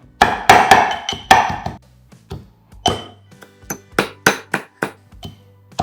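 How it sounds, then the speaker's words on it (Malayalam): Curry leaves, green chilies and shallots are pounded together by hand in a steady series of sharp, close thuds, one strike after another with short pauses between, and no voices. "കറിവേപ്പിലയും പച്ചമുളകും ചുവന്നുള്ളി എല്ലാം കൂടി ഇട്ടു നന്നായിട്ട് ഇടിച്ച് കൂട്ടിയെടുക്കാം"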